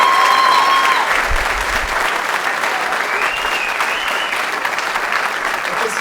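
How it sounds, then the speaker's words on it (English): Applause from an audience honoring graduates at a Class of 2019 enlisted and service academy recognition ceremony, a steady wash of many hands clapping that carries on evenly throughout. "Let's have a round of applause for the graduates from Southampton High"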